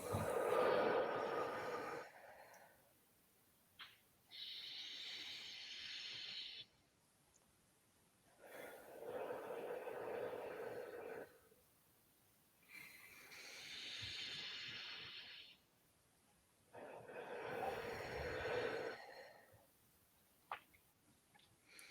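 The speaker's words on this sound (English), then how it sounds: "let's take 3 deep breaths." Several people take three long, deep breaths together, each slow breathy inhale and exhale rising and falling in turn with short quiet gaps, close and fairly soft.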